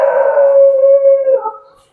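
A dog howls once nearby, a loud drawn-out tonal wail that holds steady and then fades away.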